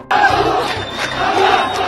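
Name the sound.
crowd in Gaza chanting anti-Hamas slogans at protest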